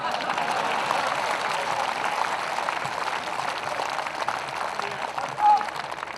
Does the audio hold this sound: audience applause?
yes